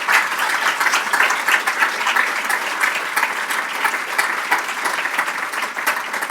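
An awards ceremony audience applauds a winner, steady loud clapping from a full room sustained without a break, with no voices rising above it.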